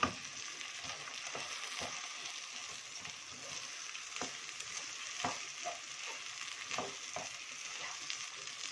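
Drained, washed taro frying in a pan gives a continuous soft sizzle, broken by repeated scraping clicks as it is stirred and turned, with no voices.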